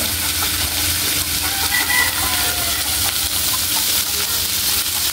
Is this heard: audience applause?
no